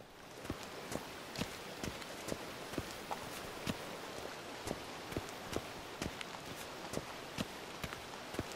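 A horse walks in The Witcher 3, its hooves clip-clopping in a steady, even rhythm against a soft hissing ambience. The sound is fairly quiet and no one speaks.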